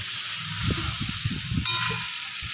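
Banana flower curry being stirred in a pan with the lid off, soft scraping and shuffling strokes over a steady hiss of cooking, with a brief metallic clink near the end.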